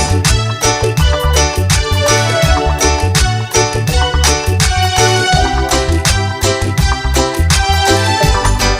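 A song plays loud and continuous, with a steady beat, a heavy bass line and layered melodic parts, with no talking.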